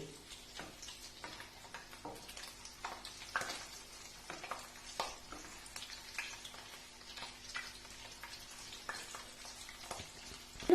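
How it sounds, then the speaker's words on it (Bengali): Egg pakoras fry in oil over a low flame, a quiet continuous sizzle with small popping ticks and occasional stirring clicks as they are turned. "এপিট ওপিট উল্টে উল্টে এটাকে খুব ভালো করে ভাজতে হবে"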